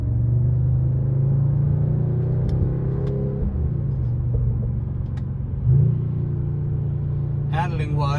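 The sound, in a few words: engine sound inside 2025 Mercedes-AMG CLE53 coupe cabin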